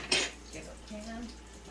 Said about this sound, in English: I'll use a big pan today.